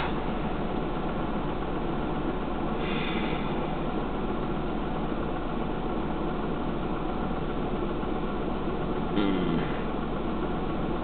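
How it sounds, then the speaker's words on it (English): A car engine idles steadily with a low, even rumble, close and continuous, with no talking. "The heartbeat of a car listening to its engine."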